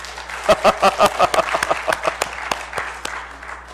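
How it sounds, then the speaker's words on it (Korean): Church congregation at a spring revival service applauding in unison, a run of loud, distinct group claps that thins into scattered claps toward the end. "격려의 박수 한번 드리십시다."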